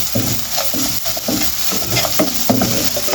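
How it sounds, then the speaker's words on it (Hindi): Spiced potato filling for aloo samosas fries lightly in a pan, a close, steady sizzle with rhythmic scraping as it is stirred, and no voices. "हल्का सा फ्राई करना है, जो इसका नमक मिर्चों का कच्चापन ख़त्म हो जाए।"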